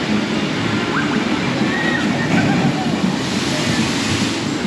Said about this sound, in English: So this is the best water ride if you want to get wet.